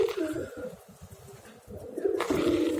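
Pigeons coo inside a pigeon house, with soft repeated low throaty pulses close by, rising a little louder toward the end.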